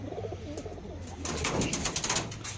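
Pigeons coo softly at close range, low throaty calls that swell into a louder cluster partway through, with faint rustling around them.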